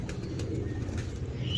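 Teddy breeder pigeons coo softly and low, a faint murmuring call over steady background hum with no one speaking.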